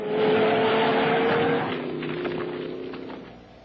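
A truck roars through a wild ride in a Hollywood film scene, engine loud and strained at first, then easing into a lower, fading rumble with rattles toward the end.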